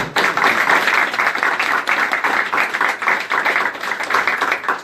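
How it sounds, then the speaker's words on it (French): Sustained applause from a seated audience clapping for conference panelists, dense overlapping claps with a steady rhythmic pulse, loud and continuous for several seconds without talk. "J'aurais voulu qu'on applaudisse nos panélistes, d'abord, s'il vous plaît."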